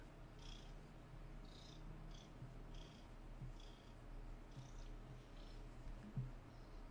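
A cat purring right up close, a soft, steady rumbling purr with a rhythmic pulse under a constant low hum, faint and with no speech.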